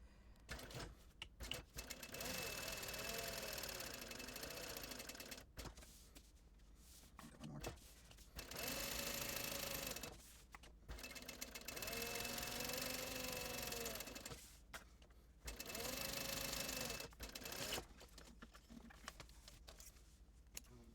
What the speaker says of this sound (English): Now I'm going to sew across that marking and then baste all the other 3 edges.